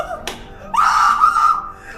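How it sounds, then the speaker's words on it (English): A person lets out a loud, shrill scream lasting about a second, preceded by a brief sharp yelp, close to the microphone. "I'm gonna scream."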